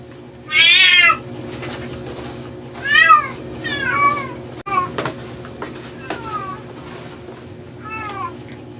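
Several cats meowing in a home, a loud drawn-out meow near the start followed by a string of shorter, fainter meows and mews over a steady low background hum.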